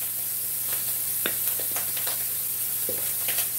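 Sausage frying in a pan while breakfast muffins are prepared, a continuous close sizzle with scattered pops and crackles throughout, no talking.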